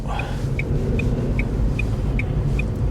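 Steady low engine rumble and road noise fill the interior of a moving car, with a faint regular ticking, like an indicator, repeating about every half second; nobody speaks.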